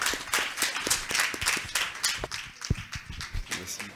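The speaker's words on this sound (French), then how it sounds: "je voudrais vous inviter une fois de plus à nourrir des applaudissements pour le panel" Audience clapping for a panel at a talk show session, with fairly close, distinct individual claps forming a steady round of moderate loudness, mixed with some crowd noise.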